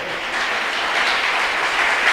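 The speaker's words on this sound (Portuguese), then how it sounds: "Você pode aplaudir o Senhor?" A congregation at a Christian inner-healing seminar applauds in a steady, dense burst of clapping, close and sustained, with no voices over it.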